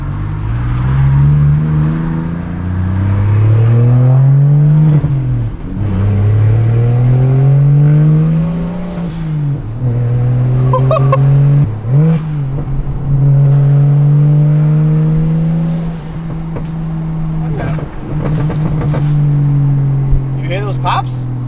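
A BMW N54 with a Doc Race DR700 single turbo and straight-pipe exhaust accelerates through the gears, its loud engine drone climbing in pitch, dipping at each shift, then climbing again, with occasional pops near the end.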